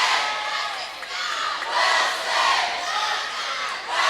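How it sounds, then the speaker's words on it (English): A loud crowd roars and cheers at a boys' high school water polo state championship game in a natatorium, with continuous shouting swelling and easing in waves. "Loud crowds here at the Rick Carroll Natatorium, 2 of the biggest fan bases in the state"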